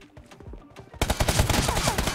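M24 and M4 rifles fire in a BGMI match: a few scattered sharp shots, then a dense, rapid burst of gunfire, loud and close.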